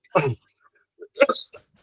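A short throaty cough burst followed a moment later by a second rougher cough or throat clearing, close and fairly loud, with quiet between.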